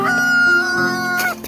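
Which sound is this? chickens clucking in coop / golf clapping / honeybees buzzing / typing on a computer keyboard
chickens clucking in coop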